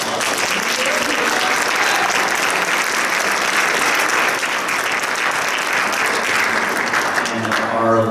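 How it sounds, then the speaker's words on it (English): Sustained crowd applause fills a room at a youth soccer awards banquet, loud and steady for about eight seconds, with a voice starting to speak over it near the end. "So let's have a round of applause."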